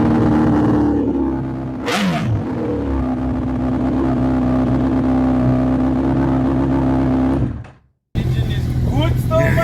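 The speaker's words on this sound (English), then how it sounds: "the fuel pump primes. Not always, as there is a fault somewhere in this spaghetti junction, and the bike starts" A Honda CBR1000RR motorcycle with a wiring loom fault cranks and fires up, a sharp burst followed by a steady close engine drone that cuts off abruptly near the end before resuming.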